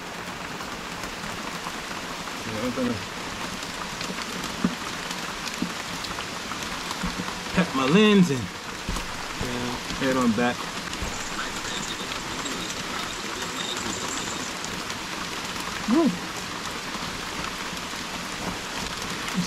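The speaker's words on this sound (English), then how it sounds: "It is raining." Steady rain pours through a Costa Rican rainforest near hanging bridges, a dense broadband hiss running through the whole stretch while someone talks briefly and whoops over it.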